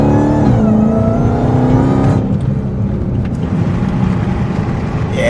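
A Dodge Hellcat with a new exhaust revs loud and close, its engine note sweeping up and then dropping back into a rough, rumbling idle. No talking.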